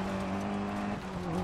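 Rally car driven in the video game DiRT 4 on a historic US stage, a steady close engine drone with a low tonal hum running throughout, briefly dipping near the middle, heard alone.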